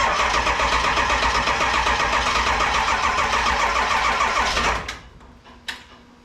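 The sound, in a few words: 7.3 Powerstroke diesel engine cranking slowly in the cold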